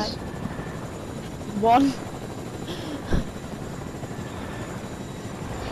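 A helicopter in a video game chops steadily in the background while a player talks over it, with a brief louder burst partway through and a sharp hit later.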